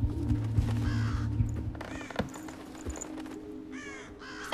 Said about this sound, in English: That bird is giving me away?